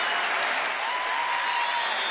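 A baseball crowd in Washington gives a pitcher, Ross Detweiler, a steady, dense round of applause that fills the whole stretch, loud and enveloping with no pauses.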